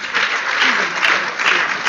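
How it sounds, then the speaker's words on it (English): Brief burst of audience applause at a community event, steady dense clapping across the whole moment with a few louder swells. "I didn't hear that round of applause for her"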